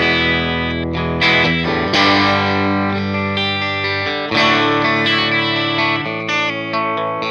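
Electric guitar played clean through a Fender Blues Jr amp with a WGS Alnico speaker, bridge pickup selected: bright, ringing chords and single notes in a steady strummed phrase, close and fairly loud, with no talking.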